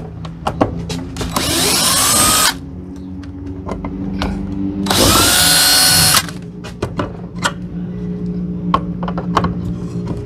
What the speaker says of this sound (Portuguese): agora eu vou pegar a furadeira e vou soltar o resto com a furadeira